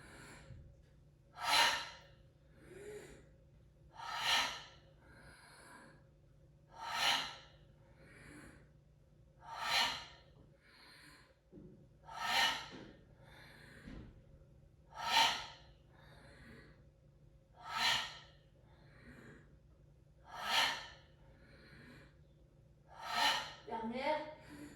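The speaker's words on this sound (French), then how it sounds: "vous suivez du coup le son de la respiration" Heavy, rhythmic breathing during a dynamic yoga exercise, sharp forceful breaths repeating about every two and a half seconds, close and clear over a quiet background hum.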